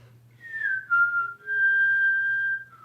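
A person whistles a short tune in clear, sustained, near-pure notes, a few held pitches sliding between one another, close and alone over a faint low hum, with no talking.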